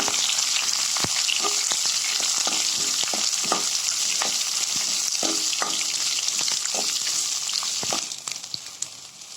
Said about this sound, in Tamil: வெங்காயம் கலர் மாறல நல்லா வதக்கிக்கோங்க.